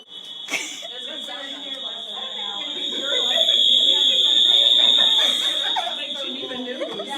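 A fire alarm buzzes as a steady, piercing high tone throughout, while several people talk, cough and laugh over it.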